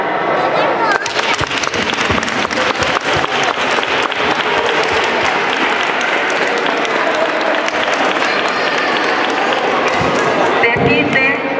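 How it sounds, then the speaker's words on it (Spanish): Audience applause at the opening of a school cultural week in Bobadilla Estación, Spain, honouring the parents' association president: long, loud, dense clapping with crowd voices and some individual claps standing out. "pido desde aquí un fuerte aplauso"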